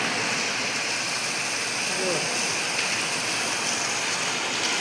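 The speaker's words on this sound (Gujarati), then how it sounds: "અડધી કલાકથી વરસાદ ચાલુ થઈ ગયો છે ધોધમાર" A heavy monsoon downpour in a village makes a dense, steady roar of rain, loud and unbroken throughout, with no distinct individual drops.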